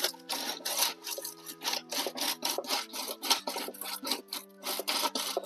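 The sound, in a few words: peanut groundnut shelling machine cracking pods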